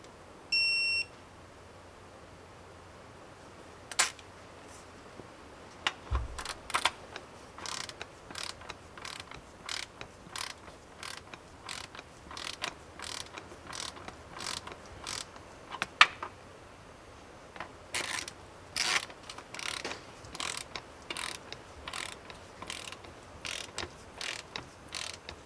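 A torque wrench tightens bolts on a Farmall H tractor under restoration, with a quick series of dry ratcheting clicks in short bursts and pauses, fairly quiet and close, and a brief electronic beep near the start.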